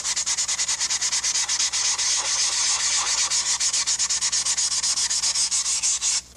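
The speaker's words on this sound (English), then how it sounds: "Now I'm going to sand with some 400 wet." A jet aircraft scale model is wet sanded by hand with 400-grit wet sandpaper, making quick, regular back-and-forth rasping strokes, close and steady for several seconds before stopping, with no talking.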